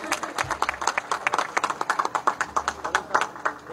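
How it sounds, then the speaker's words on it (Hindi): A crowd at a political rally claps loudly and steadily to welcome a government minister, a dense run of hand claps that grows more rhythmic toward the end. "जोरदार तालियों से मंत्री जी का स्वागत"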